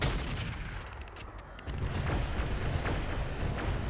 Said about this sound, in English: And we're going to fire our Long Tom.